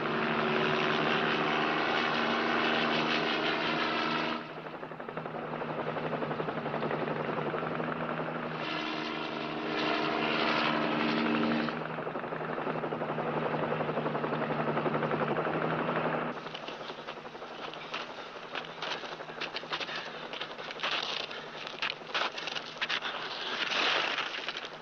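Helicopter flying over mountains on a patrol search, a steady loud rotor and engine drone with pulsing, choppy texture, continuous throughout and heard alone without talk.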